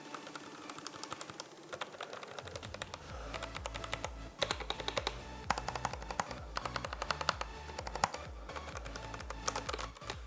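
Fast typing on a cheap £20 keyboard with taped keys gives dense, rapid clicky keystrokes, close and fairly soft, in an irregular steady patter after a brief quiet start.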